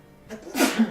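A single sneeze bursts out during a tabletop role-playing session, short and close, following a soft intake of breath.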